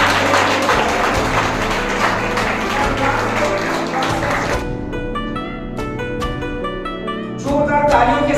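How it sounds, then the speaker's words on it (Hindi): An audience at a school sports and culture felicitation ceremony applauds a kabaddi first-place winner, a steady wash of clapping that thins into scattered claps and taps, with background music running through it. "जोरदार तालियों के साथ"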